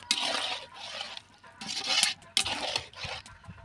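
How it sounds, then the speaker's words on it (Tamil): Water is poured from a small vessel into a pot for a village-style meat curry in several splashy bursts with short pauses between them, close by, with no talking. "நமக்கு எவ்வளோ தண்ணி தேவையோ அவ்வளோ தண்ணி ஊற்றிக்கலாம்."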